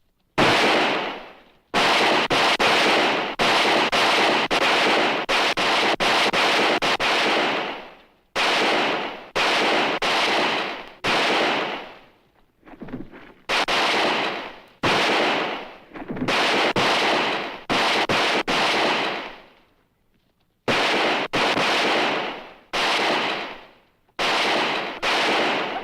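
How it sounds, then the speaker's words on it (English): Gunfire in a western TV shootout: repeated bursts of sharp pistol and rifle shots in uneven clusters, loud and echoing, separated by short quiet gaps, with no talk. "let them work in close, and then start shooting slow and steady"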